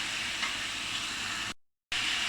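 Bitter gourd and potato bhaji is stirred as it fries in a pan, a steady dense sizzle that cuts out briefly to silence near the end before returning.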